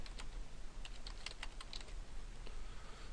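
Fingers type quickly on a computer keyboard while editing a wiki link, producing a steady run of light, close clicks and taps. The keystrokes sound alone and fairly faint over a quiet background hum.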